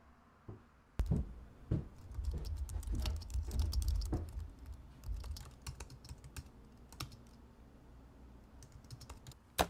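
Fingers type on a computer keyboard, an irregular patter of close clicks with occasional sharper key strikes over a faint low rumble; no one speaks.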